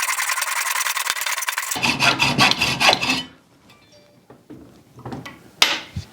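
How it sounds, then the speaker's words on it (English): A hacksaw cuts a piece clamped in a small vise, first with a long grinding stroke and then quick rhythmic back-and-forth rasps, loud and close, followed by quieter handling clinks. "I'm going to cut this with a hacksaw."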